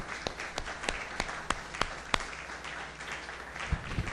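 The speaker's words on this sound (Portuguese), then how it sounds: "Uma salva de palmas ao Senhor mais uma vez." A church congregation applauding, with a run of distinct, fairly spaced claps that are sharp but not very loud and that fade into quieter room noise.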